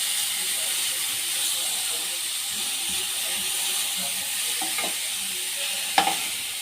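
Chopped tomatoes and other vegetables hiss and crackle as they fry in a pan, a steady close sizzle with a few utensil knocks and scrapes toward the end.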